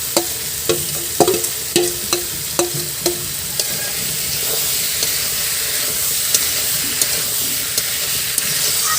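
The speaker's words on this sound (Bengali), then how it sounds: "এখন এঁচড়গুলো দিয়ে দিচ্ছি" Raw jackfruit pieces go into hot frying spices and are stirred, producing a run of sharp spoon knocks against the pan over a loud, continuous sizzle that settles into steady frying.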